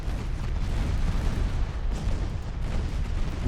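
A battleship going down in a naval warfare game, a dense, continuous rumble of booming explosions and roaring noise with no break.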